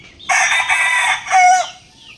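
Chickens give a loud, close crow and cluck in a short burst, two quick phrases of raspy calling against a quiet background.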